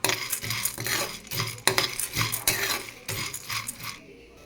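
Sunflower seeds lightly frying in a pan while being stirred: repeated close clinks, scrapes and rattles of seeds against metal come in an uneven rhythm, with no talking.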